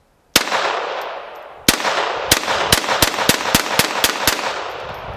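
Gunshots fired at a shooting target during home self-defense training: a sharp crack, then a pause, then a rapid string of about ten loud, close shots in quick succession, each ringing out briefly, with no talking.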